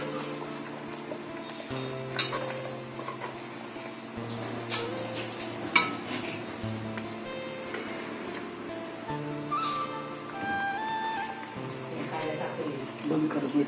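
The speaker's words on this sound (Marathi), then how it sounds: "आता सगळे वांगे टाकलेले, यांना मिक्स करून घ्यायचे मसाल्यामध्ये." A spoon scraping and clinking in a pan as eggplant pieces are mixed into masala, soft intermittent stirring under steady speech in Marathi.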